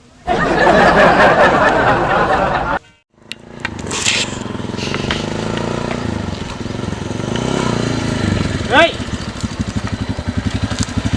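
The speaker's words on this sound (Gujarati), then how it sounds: "બંધ કર બાઇક બંધ કર" A motorcycle engine runs loud and close, first revving hard, then cutting out briefly before settling into a rumbling idle with steady pulses, while people talk over it.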